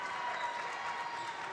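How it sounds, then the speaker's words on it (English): North Judson Blue Jays basketball fans applaud their squad at Phil Waybright Gym, a steady dense wash of clapping filling the whole moment with no break. "as the Blue Jay fans applaud the effort of their squad tonight"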